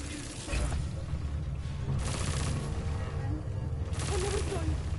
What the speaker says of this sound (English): That was a gun, wasn't it?